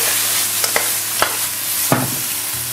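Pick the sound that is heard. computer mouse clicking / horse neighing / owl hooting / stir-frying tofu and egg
stir-frying tofu and egg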